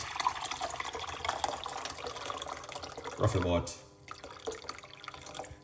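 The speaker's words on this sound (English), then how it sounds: "Hot water gonna go inside of it, guys." Hot water pours and splashes into a pot at close range for a few seconds while someone talks over the running water.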